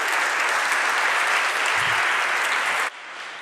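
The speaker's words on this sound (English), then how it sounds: "this applause is for you, Marek Tuszynski" A conference audience at re:publica 2024 gives dense, steady applause after a talk, loud and close, cutting off abruptly near the end.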